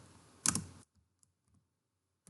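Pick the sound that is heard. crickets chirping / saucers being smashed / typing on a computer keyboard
typing on a computer keyboard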